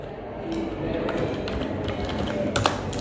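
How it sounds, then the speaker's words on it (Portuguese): Fingers type on a computer keyboard in a quick run of light clicks and taps, with a voice talking in the background. "Digitando Google."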